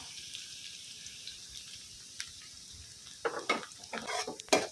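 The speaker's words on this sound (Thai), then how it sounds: "พอน้ำมันร้อนได้ที่นะคะ เราก็ใส่กระเทียมลงไปเจียวให้สุกหอมก่อนนะคะ" Garlic frying in hot oil in a wok, a faint steady sizzle that turns livelier near the end with several close metallic stirring scrapes and crackles.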